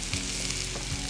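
Onions dropped into a hot pan for a breakfast feast set off a brief, steady sizzle, close and fairly loud, with a low thump at the start and no voices.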